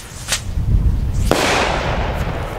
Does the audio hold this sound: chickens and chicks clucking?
no